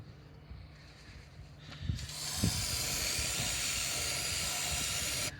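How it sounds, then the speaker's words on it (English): Brake parts cleaner sprays into an engine part on a 2008 Vauxhall Astra H 1.8, a steady, close, loud aerosol hiss lasting about three seconds before cutting off, after faint clicks and handling noises. "I will put a little bit of brake parts cleaner in there just to clean it out"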